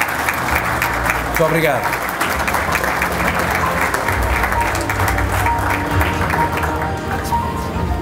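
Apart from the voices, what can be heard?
audience applause at an awards gala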